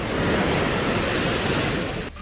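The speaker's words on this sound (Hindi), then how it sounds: "पोंग बांध से पानी छोड़ा गया था, जिसकी वजह से व्यास नदी में उफान आई" The swollen Beas river rushes in flood after water was released from the Pong dam, a loud, continuous broadband roar of churning water with no voices.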